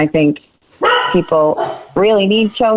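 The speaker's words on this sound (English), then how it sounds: "That's my dog" A pet dog barks at home during a quarantine-era video call, with several sharp, close barks interleaved with someone talking.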